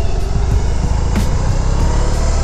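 BMW R18 motorcycle engine idling nearby, a steady low rumble with an even pulsing throb, loud and continuous with no talking.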